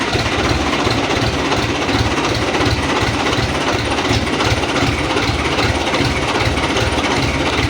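A tractor engine idles in cold winter weather with a loud, steady low rumble and an even, throbbing rhythm that holds unbroken from start to finish, with no talk.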